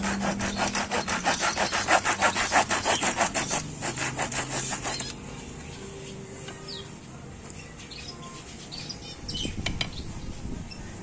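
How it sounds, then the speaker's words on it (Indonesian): A hand saw rasps back and forth through an old wooden broom handle in quick, rhythmic strokes for several seconds, then stops, leaving faint bird chirps and small handling noises nearby. "Kita mulai dari ujung-ujungnya lebih dahulu. Kita gergaji ini"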